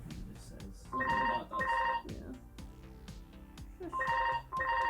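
A ringing telephone with a bell tone sounds in two pairs of bursts, loud and close, with quieter background between them.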